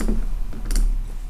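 Keys on a computer keyboard are pressed for a shortcut, a few quick, close clicks and taps over a low steady hum.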